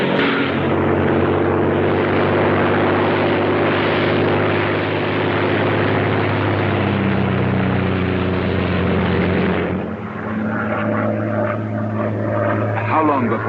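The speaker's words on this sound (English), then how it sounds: "a Royal Air Force plane is waiting for us at a secret landing place." Royal Air Force propeller plane in flight in a 1942 film, a steady loud droning engine hum throughout, with voices talking over the engine toward the end.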